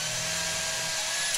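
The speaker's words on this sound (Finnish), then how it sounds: "Ja terävä pitää olla se pora, että se menee läpi eikä työnnä tonne sisään sitä paskaa" A power drill bores holes into the plastic cover of a car battery, giving a steady, loud high-pitched whine that holds unbroken for just over a second before cutting off.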